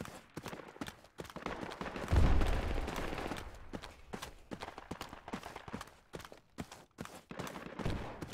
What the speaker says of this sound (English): lots of enemy fire around here